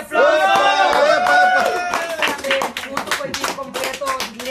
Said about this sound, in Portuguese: Para el team completo de Luis Luna, por favor, un fuerte aplauso.